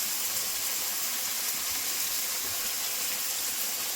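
Kashmiri chili powder and turmeric sizzle in a pan with onion, garlic, green chili, tomato and ginger for a Bengali egg dish, a steady close hiss with no talking.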